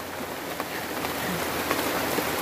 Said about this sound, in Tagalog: inabuta kami ng ulan, ang lakas.